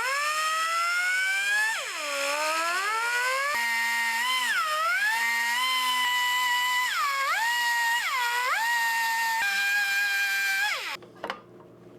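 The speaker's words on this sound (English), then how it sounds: "I'm going to use this little mini die grinder with this grinder head that has a few different radiuses" A small handheld mini die grinder with a multi-radius grinding head shapes a brass and bamboo lipless crankbait lure, its high whine sustained and rising and falling in pitch as the load changes, close and loud with no talk.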